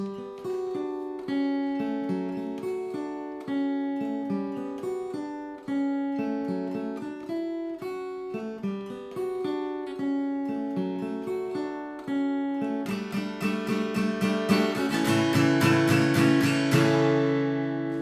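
An acoustic guitar slowly plays the chord progression of a song, each chord strummed and left to ring. The strumming grows fuller and brighter toward the end.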